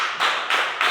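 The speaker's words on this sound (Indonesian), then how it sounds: "Tepuk tangan buat Ram." A classroom of students claps together in quick, even bursts, loud and close, a brief round of applause for a classmate with no talking over it.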